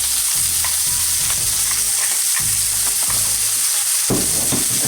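A salt-and-peppered steak sizzles loudly in a hot frying pan, a steady crackling hiss broken by several bursts of stirring or shifting in the pan.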